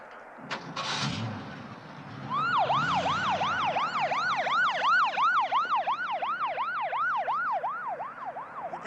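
An ambulance siren in a 1975 film wails in a fast, repeating up-and-down pattern, loud and close, after a brief clatter at the start.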